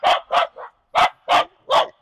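A dog barks in quick bursts near the microphone, six loud, clipped barks in two groups of three, with brief silences between; no talking.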